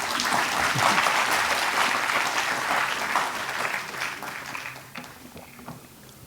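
Audience applause at a national seminar on emergency medicine in Ayurveda, a dense burst of clapping from a sizeable crowd that starts strong and gradually thins and fades toward the end.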